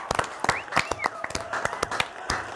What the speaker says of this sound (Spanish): pues aplaudan fuerte, fuerte, fuerte